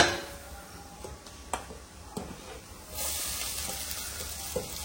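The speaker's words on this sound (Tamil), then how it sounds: "இப்போ வந்து பாத்தீங்கன்னா நம்ம சாதத்தை போட்டு கிண்டிடலாம்." Cooked rice with pepper powder is stirred in a pan, with a few soft scrapes over a low sizzle that turns into a steadier hiss partway through.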